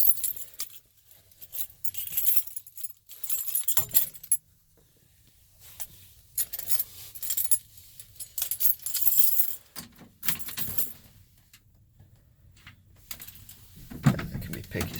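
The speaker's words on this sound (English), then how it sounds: "So let me grab the keys out of my pocket here." Keys jangle in bursts as they are pulled from a pocket beside a cheap old Ford truck, with bright metallic clinks coming in several short clusters separated by quiet pauses.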